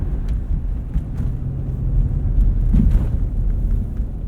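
A Lexus GX 460 on Cooper Discoverer AT3 4S all-terrain tires drives along winter roads, giving a steady low rumble of engine and tire roar with wind buffeting and a few soft thumps.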